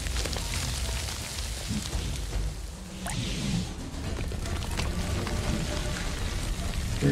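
Steady hiss of heavy rain in the video game Quench fills the clip, with a brief whooshing sweep in the middle and scattered patters.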